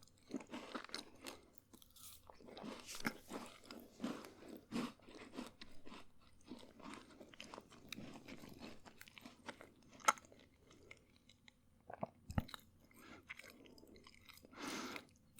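Close, crisp crunching and chewing of Jaffa Cakes and a new biscuit, irregular mouth-level bites and munches with soft pauses between, no talking.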